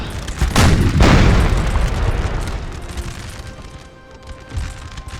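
Cannons firing canister shot in Napoleon: Total War, a heavy close boom that rolls out into a long rumbling decay, with a smaller thump near the end.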